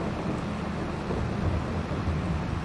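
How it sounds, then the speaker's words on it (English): Steyr 8165 Forestry Edition tractor in Farming Simulator 22 with a custom engine and transmission sound scheme, a steady low rumbling drone that holds at an even level throughout, with no talk over it. "Custom sound scheme on the transmission and engine sounds."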